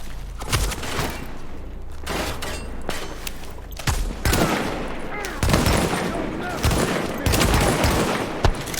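Rapid gunfire from pistols and other weapons rattles in bursts during a Tom Clancy's The Division shootout, loud sharp cracks repeating throughout over a low rumble.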